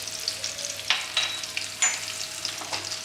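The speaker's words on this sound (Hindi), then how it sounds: "मेरा ये घी गर्म हो चुका है। इसके अंदर अब हम ये सिनेमन स्टिक, दालचीनी, लौंग," Whole spices, cinnamon stick and cloves, fry in hot ghee with a soft, crackling sizzle, punctuated by sharper pops and spits over a steady hiss.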